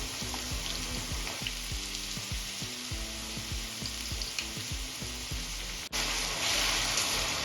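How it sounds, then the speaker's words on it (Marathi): Raw potato pieces fry in hot oil for a sabudana khichdi, giving a steady close crackling sizzle with occasional spatters and one brief sharp drop near the end, no voices. "आधी आपल्याला बटाटे फ्राय करून घ्यायचे आहे ऑइलमध्ये"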